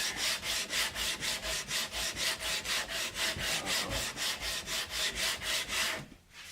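A flame maple guitar neck blank is hand sanded in quick, even back-and-forth strokes, about twenty close, loud rasping passes in steady rhythm before the sanding stops.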